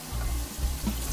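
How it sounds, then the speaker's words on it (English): Cold tap water running over a hot pressure cooker in a kitchen sink while it releases pressure: a close, soft hiss and splashing stream with low gurgling pulses, brief and fairly quiet. "Listen, it's releasing the pressure."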